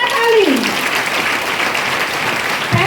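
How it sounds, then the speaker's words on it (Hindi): A loud burst of applause from an audience at a gathering fills the whole moment, dense and steady clapping close by with a brief voice near the start. "चाहत मैम के लिए एक बार जोरदार ताली।"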